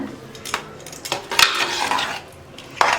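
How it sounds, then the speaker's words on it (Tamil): A spoon scrapes and clinks against a pan while sweet pongal is stirred with cardamom powder, giving irregular metallic taps and thick, sticky mixing sounds, fairly close and without talk. "எல்லாத்தையும் சேர்த்து நல்லா மிக்ஸ் பண்ணி விட்டுருங்க"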